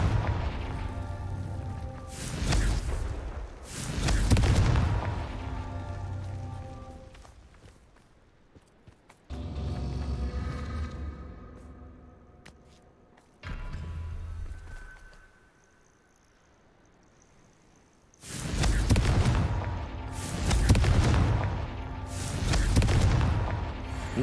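Fiery Confringo spell blasts in Hogwarts Legacy: several loud, booming bursts land in clusters, with quieter rumbling gaps between them and a heavy run of explosions near the end.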